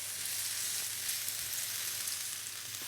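Spring onions and garlic sizzle steadily in a pan as they are stirred, a close, continuous frying hiss with faint scrapes and no talk.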